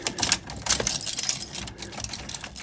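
Car keys for a square-body K5 GMC Jimmy jingle and clink in irregular bursts near the listener, light metallic rattles rising and falling against faint background noise.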